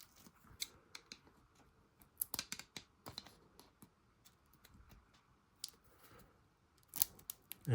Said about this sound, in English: Little two-sided tape.